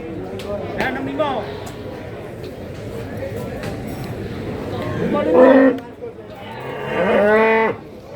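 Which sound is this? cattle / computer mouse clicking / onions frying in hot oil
cattle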